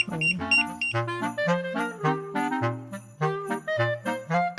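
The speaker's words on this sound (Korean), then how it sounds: "저희가 기존에 사용하던 벤딕트의 언템드 일산화탄소 경보이고요" A carbon monoxide alarm sounds inside a winter camping setup, playing a repeating electronic melody of stepped beeping tones, moderately loud and close, with no voices.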